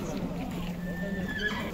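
Local Karabair horse at a busy horse market near Bishkek, with hooves clip-clopping and a whinny heard near, while people talk in the background.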